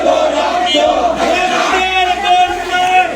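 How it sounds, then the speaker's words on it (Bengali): Crowd of political activists chanting slogans, a loud mass of voices shouting in rhythmic unison, close and dense with a few sharp peaks. "তারা স্লোগান দিল যে ফুলবাড়ির মাটি"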